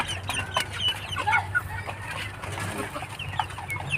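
Young aseel and shamo gamecock stag roosters cluck repeatedly in short, overlapping bursts, fairly close and steady, over a low constant hum of farmyard background.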